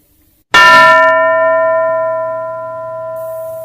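A single bell struck once in a classroom, a sharp metallic clang that rings out with clear sustained tones and slowly fades, alone with no talk.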